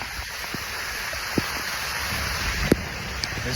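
Steady rain falling in a canyon in Utah, a continuous soft hiss with a few sharper drips and taps standing out, moderately loud and alone.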